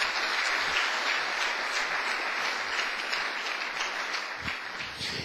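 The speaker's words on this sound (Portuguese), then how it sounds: "pode dar uma salva de palmas para o Senhor" A church congregation claps steadily and loudly for several seconds, a dense sustained wash of applause that filling the room without any voices on top.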